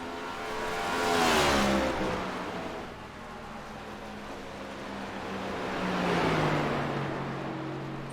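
NASCAR Next Gen race car engines in iRacing at Richmond Raceway, moderately distant cars roaring past with rising and falling pitch in two passing swells over a steady background drone.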